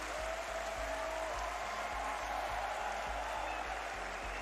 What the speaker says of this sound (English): The crowd have their favourite and Sathu claps along with them.